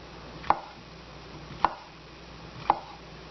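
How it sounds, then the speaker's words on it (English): Knife slicing through whole raw mushrooms on a cutting board, three crisp, evenly spaced chops against a quiet background. "I just cut through the whole thing and cut a few pretty small slices like that"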